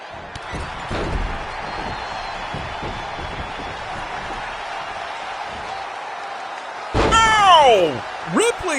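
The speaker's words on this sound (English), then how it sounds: "Ripley just slamming Riot down" A body slam hits the mat in a WCW wrestling video game at the Cow Palace, a loud sudden thud near the start over steady arena crowd noise, with a commentator talking throughout and a cheering surge near the end.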